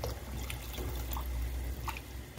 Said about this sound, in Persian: حالا مقدار آب بهش اضافه میکنیم به اندازه‌ای که مرغامون پخته بشه.